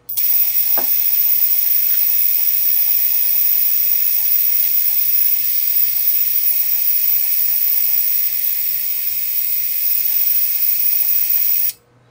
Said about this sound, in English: we're going to power all the motors up very slow, because you don't want to power the motors up without any load